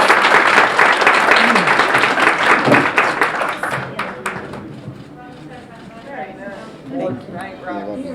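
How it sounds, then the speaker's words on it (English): An audience at a nurse-of-the-year award ceremony applauds loudly, with the dense clapping fading over several seconds as voices begin talking over it. "Let's give her a round of applause."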